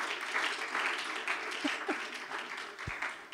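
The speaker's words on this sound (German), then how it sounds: "Ein Applaus, oder, für Jesus?" Applause from a church congregation during a service, a steady broadband patter of many hands lasting the whole moment at moderate volume.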